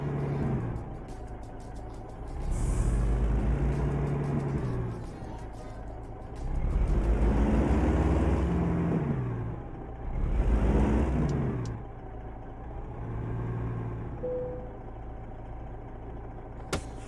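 Simulated truck engine from American Truck Simulator idling and revving in slow swells, with three louder rises and falls over a steady low drone, close and continuous, with no talk.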